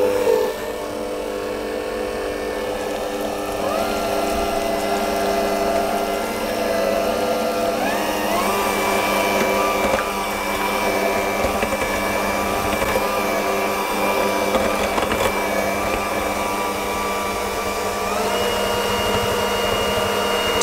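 Electric mixer whipping butter for a caramel frosting on an almond sponge cake, a loud continuous motor whine that holds steady for about twenty seconds with slight pitch shifts, close and alone.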